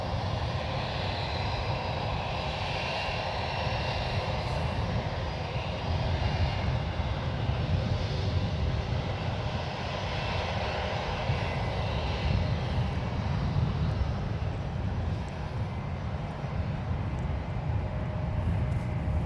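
A Lufthansa Boeing 747-8I jet airliner at San Francisco International Airport produces a steady, loud engine roar, a broad rumbling drone that holds constant throughout.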